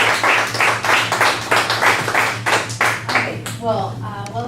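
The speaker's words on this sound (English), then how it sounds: "I would like to give her an applause to start" A small audience at a university talk on reflective writing claps in a rhythmic burst of distinct hand claps that fades out, followed by a voice starting to speak.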